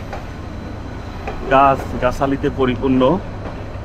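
A Nazirhat local train pulls out of Hathazari railway station with a steady low rumble beneath someone speaking close to the microphone.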